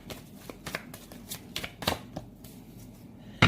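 Tarot cards being shuffled by hand, a run of quick, crisp riffles and flicks in irregular bursts close to the microphone, ending in a sharper slap of the deck.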